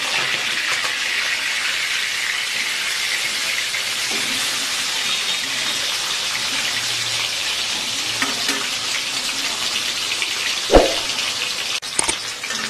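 Pomfret fish frying in oil in a pan, a continuous loud hissing sizzle with a brief clatter of turning near the end, close and steady throughout.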